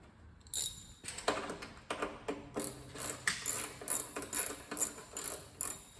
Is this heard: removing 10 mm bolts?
yes